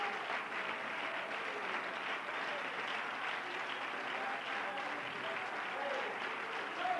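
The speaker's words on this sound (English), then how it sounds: "Let's give the Lord a good hand clap" A church congregation at a Pentecost service gives the Lord a hand clap, a dense, even roar of many hands clapping together at moderate distance, sustained without a break.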